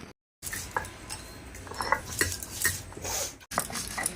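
Melon seeds, cashews and green chili being ground into paste on a grinding stone, with irregular scraping and clattering knocks, brief pauses, and sharp clinks close by.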